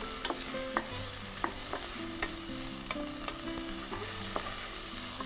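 Potatoes, carrots, beans and small onions sautéing in hot butter, sizzling steadily up close while a spoon scrapes and clicks against the pan every second or so.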